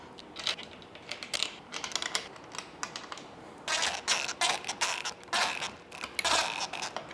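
Fasteners go into a T56 transmission during final assembly of a countershaft extension, giving quiet, close clicks, creaks and small metallic ticks in irregular bursts, with a few busier clusters of activity.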